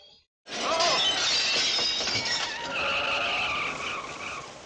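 Glass windows shatter in a 1980 horror film scene, a loud sustained crash of breaking glass with scraping and skidding noise that fills several seconds, close and dense.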